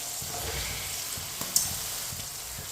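Potatoes added to a pan with peas for aloo matar pulao, frying with a steady close hiss and sizzle, a few faint stirring knocks underneath and no talk.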